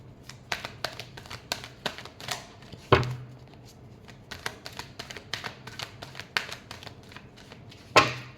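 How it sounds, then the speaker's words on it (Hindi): Tarot cards being shuffled by hand close up, a run of quick papery riffles and taps in an uneven rhythm, with a couple of louder knocks, and no voices. "Last shuffle."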